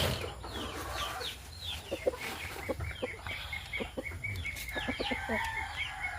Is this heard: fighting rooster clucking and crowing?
yes